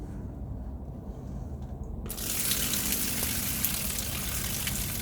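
Water poured out of a container in a carnivorous plant setup, beginning as a quieter trickle and then becoming a loud steady gush after about two seconds, with no talking.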